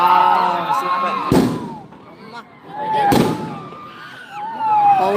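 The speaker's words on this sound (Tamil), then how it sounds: "அதுலதான் போடுறாங்க உங்களுக்கு வெடிய சொக்க பானைல" Fireworks bursting at a Karthigai Sokkapanai bonfire celebration under a full moon, two loud close bangs with crackling tails amid whistling rockets and an excited crowd, with people talking throughout.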